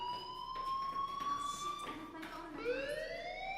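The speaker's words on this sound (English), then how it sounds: "Hey, do you hear that fire alarm?" A fire alarm in the video game Life is Strange sounds a loud steady electronic tone that holds and then shifts pitch, with background noise beneath.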